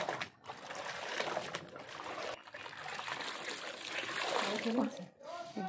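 Tap water runs steadily into two buckets with a continuous splashing trickle, close by and moderately loud, while people talk over it.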